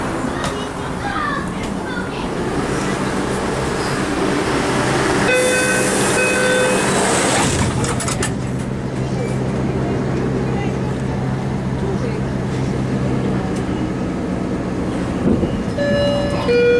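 A Boston Orange Line subway train rumbles steadily along its rails with a loud continuous roar, a brief high squeal partway through, and faint voices under the noise.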